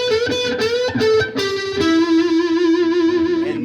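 Electric guitar plays a slow blues lick through effects with light distortion and chorus, a few picked notes followed by a sustained string bend that rises and holds, ringing out clearly with no talk.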